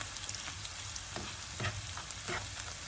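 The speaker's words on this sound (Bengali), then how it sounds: "এটা একটু কিছুক্ষণ ভাজা ভাজা করে আমি এটা আমাদের সব মশলা দিয়ে দিব" Steady hiss and crackle of dried fish frying in a hot pan, with a few louder spatters and stirring scrapes.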